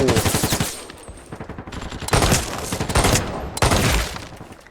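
Rapid bursts of revolver gunfire ring out in the video game Sabotaj, a first-person shooter, with several sharp shot clusters in quick succession, loud and close, and brief pauses between volleys.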